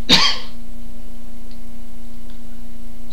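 A single short cough from a man right at the start, close and loud, followed by near silence with a faint steady hum.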